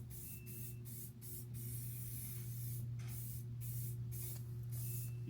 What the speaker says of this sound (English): You see how much hairspray I put?